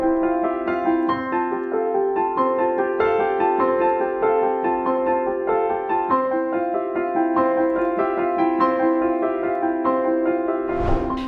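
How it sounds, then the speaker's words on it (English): A traditional-style piano exercise is played on piano, a steady stream of clear sustained notes and chords running evenly for about eleven seconds, close and alone with no talking. "It kind of reflects a more traditional piano exercise, but it sounds way more musical."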